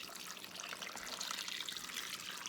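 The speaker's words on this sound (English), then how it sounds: "So I'm just going to fill this up with water." Water pours steadily into a container holding pineapple pieces and sugar, a continuous bright splashing hiss that stays close and even throughout, with no talking.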